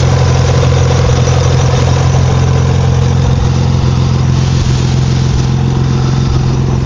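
A steady, even engine idle hums loudly and continuously up close, with a low rhythmic throb and no revving.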